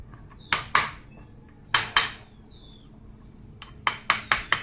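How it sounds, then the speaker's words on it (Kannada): Chisel strikes cutting a round shape while making a toy tractor trailer wheel, sharp clinking hits in three clusters of two to four, close and clear over quiet. "ಈ ರೀತಿ ಚೀಸಲ್ಲಿಂದ ಕಟ್ ಮಾಡೋಣ"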